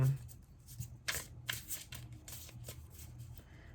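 Tarot cards being shuffled by hand during a reading, a steady run of riffling, shuffling bursts close to the microphone with faint background noise.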